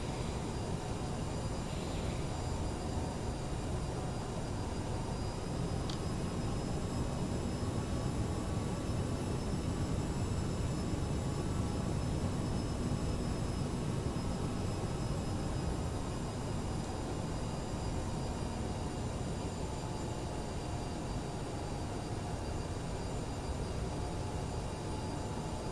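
Steady broadband jet engine roar with airflow rumble from an Aerosoft CRJ 900 in Microsoft Flight Simulator 2020 on approach with flaps and gear down, continuous and loud throughout, with faint tonal whines above.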